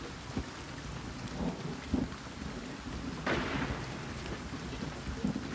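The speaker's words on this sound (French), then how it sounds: "Ah, t'as de l'orage." Thunderstorm in the video game Wartales: steady rain hiss with low rumbling thunder and a louder broadband crash partway through, heard alone with no talk.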